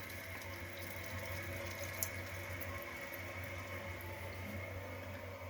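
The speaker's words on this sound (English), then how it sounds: "So we'll wait for our tank to fill up again." A newly installed toilet tank refills with water, a faint, steady rushing hiss and gurgle running without a break and with no other sound over it.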